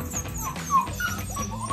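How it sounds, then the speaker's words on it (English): English Shepherd puppies about six weeks old whimper and yip softly nearby, with thin, high whining cries over a low murmur of background noise and no talk. "We're just listening to dog barking."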